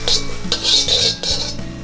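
A wok heating on the stove for Javanese fried noodles is handled, with metallic scraping and clinking of pan and utensils, loud and close, set against a steady background hum.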